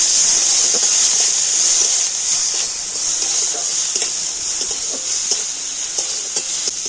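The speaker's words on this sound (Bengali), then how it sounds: "এবার আমি ওই ঘিয়ের মধ্যে দিয়ে দেবো নারকেল" Small chopped pieces of coconut fry in ghee with a steady, bright sizzling hiss, broken by light scraping and stirring taps from the pan.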